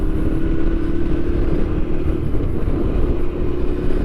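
Motorcycle engine idling and pulling through clutch, throttle and gear shifts at low speed, a steady close rumbling drone with slight rises in pitch and no talking.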